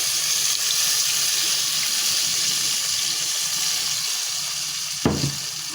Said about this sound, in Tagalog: Saka tayo mag-annex ng konting tubig.